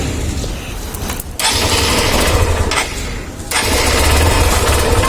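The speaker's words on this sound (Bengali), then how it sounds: "কোল্ড স্টার্টটা দিইনি, যতই না সুপার বাইক না হোক" A motorbike is cold-started outdoors after standing unused for a month following an accident. Its engine makes a loud, steady, close roar, broken by two brief dips in level.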